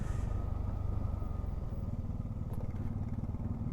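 A motorcycle engine drones steadily and close up during a group ride of four riders on the road to Pelling. The motor holds a constant, even rumble with no talking.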